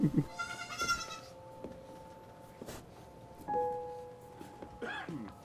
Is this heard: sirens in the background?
no